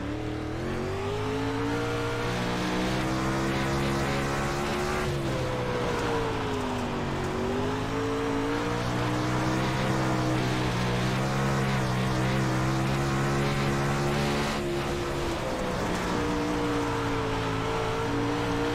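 A race car engine on a dirt track in the iRacing video game, a loud sustained drone that holds steady then dips and climbs again as the throttle is worked, running continuously with no voices.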